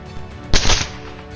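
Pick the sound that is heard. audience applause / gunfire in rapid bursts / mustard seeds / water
gunfire in rapid bursts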